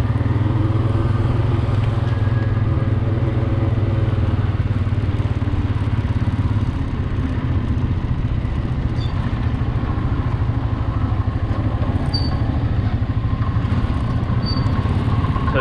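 A vehicle engine drones steadily as it drives around a dairy farm, a continuous low rumble with occasional faint clatter.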